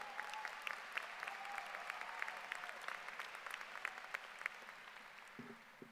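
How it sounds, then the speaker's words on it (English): A graduation audience at Thomas Dale High School's Class of 2025 ceremony claps for former class officers, sustained crisp applause from a large room with a brief low murmur near the end. "Let's give them a round of applause."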